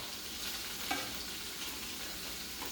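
Ingredients sizzling in hot oil in a pan while preparing an Italian seafood salad: a quiet, continuous fizzing sizzle with a faint crackle, heard alone without speech.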